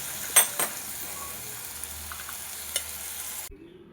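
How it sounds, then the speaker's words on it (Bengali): Chickpeas sauté in spiced masala in a pan, a soft steady sizzle with a few sharp stirring clinks of a spoon against the pan near the start, fairly quiet and close. "দিয়ে চানা কলাটা দিয়ে একটু কষিয়ে নেব।"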